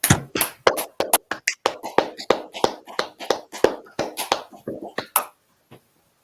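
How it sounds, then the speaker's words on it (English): Hand claps from a class audience at the close of an evening Hebrew lesson, a dense run of sharp, close claps for about five seconds that stops abruptly, followed by near silence. "Let's clap it up."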